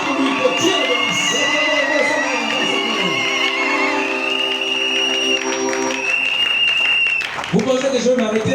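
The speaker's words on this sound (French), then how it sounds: "Vous acclamez très fort pour lui." A church congregation applauds and cheers loudly for Reverend Pastor Micta Mosepeli, a dense, continuous wash of clapping and shouting voices that carries for several seconds, briefly dips, then swells again.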